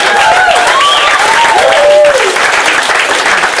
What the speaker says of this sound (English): Don't clap, it's only been a little while.